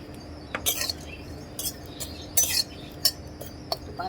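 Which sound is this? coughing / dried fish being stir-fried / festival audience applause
dried fish being stir-fried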